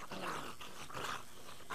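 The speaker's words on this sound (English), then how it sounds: "Okay, that dog is seeing me" A hostile dog in the video game 7 Days to Die growls low and steadily for a couple of seconds, faint and rough, over a dim game background.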